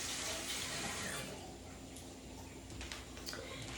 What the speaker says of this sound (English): Just gonna rinse my hands off